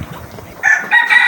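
A fighting rooster crows loudly and close by, a bright rising call in a few bursts after a short quiet start.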